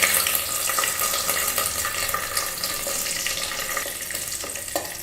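Cashews, halved pistachios and whole raisins fry in hot ghee for Bengali payesh, making a dense, steady sizzling hiss that stays loud and even throughout, with a few small crackles near the end.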